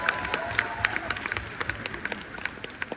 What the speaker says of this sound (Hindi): एक बार जोर से JWC टीम के लिए ताली मारते